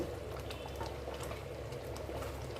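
Steady bubbling and gurgling of thick curry gravy (salna) boiling in a pot, continuous and close, with soft pops throughout and no voices.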